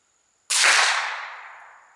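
A single gunshot firing a subsonic bullet, one sharp loud report after half a second of quiet, decaying into a long hissing tail over about a second and a half.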